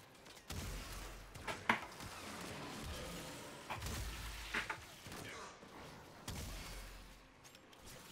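Incarnon Bronco Prime shotgun blasts in Warframe gameplay, a few sharp reports spread over several seconds among busy combat noise, with a louder shot near the start.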